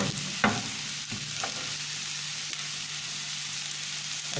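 Chicken sizzles steadily in a pot while being stirred and fried for chicken and vegetable soup, with a few sharp scrapes of the spoon early on and continuous frying hiss throughout.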